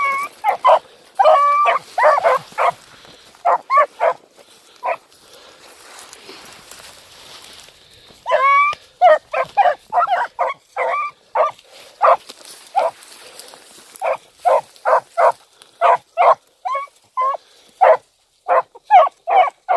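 A puppy barks in rapid bursts of sharp yips and whimpers, loud and close, with short pauses between clusters.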